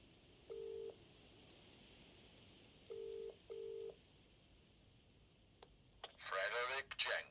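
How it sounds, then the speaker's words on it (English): Telephone dialing tones play as a phone call is placed, with a few separate tone bursts over faint hiss, followed by a short click and then garbled phone-line noise. "let's phone the box first, I suppose"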